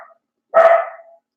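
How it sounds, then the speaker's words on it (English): A dog named Buddy lets out one loud, close bark at home, reacting to a crash outside the house on a normally quiet street; the bark rings briefly and stands alone after a short faint sound. "That's Buddy barking because he heard the crash too"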